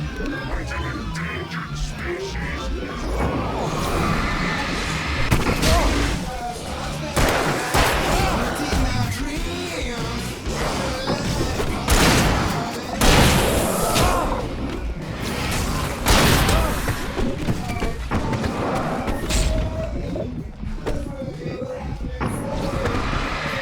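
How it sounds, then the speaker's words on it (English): Fireworks bursting in the Alan Wake video game, a dense run of booms and thuds spread across the whole stretch, loud and close, with game music and voices layered underneath. "Got some fireworks here."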